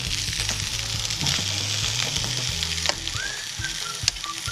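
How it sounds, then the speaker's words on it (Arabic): Cauliflower pieces fry and sizzle in olive oil in a pan while being stirred, a steady close hiss broken by soft scraping and clinking knocks, with no voices. "هون القرنبيط عم نشوي طريقة شوي حطينا شوية زيت زيتون هلا بنقلبهم شوي"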